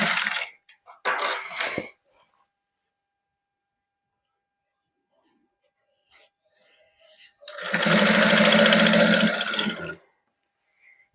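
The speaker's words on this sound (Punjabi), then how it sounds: "ਹੁਣ ਇਹਦੇ ਉੱਪਰ ਆਪਾਂ ਸਲਾਈ ਲਾ ਦਾਂਗੇ" A sewing machine running a continuous stitch through fabric edged with lace for a matching suit neckline, a loud steady whirring burst of about two seconds, preceded by short handling noises and a stretch of near silence.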